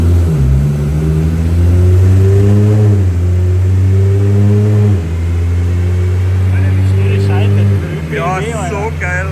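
A 1000-horsepower single-turbo Toyota Supra with an automatic gearbox revs loudly and close up, its deep engine note climbing and dropping in long held pulls, with talk coming in near the end.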